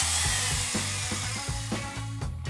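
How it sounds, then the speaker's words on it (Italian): A dentist's drill whirs in a children's dentist play scene with Barbie dolls, a steady whining buzz broken by a rhythmic pattern of lower pulsing tones. "Ma è semplicemente un trapano!"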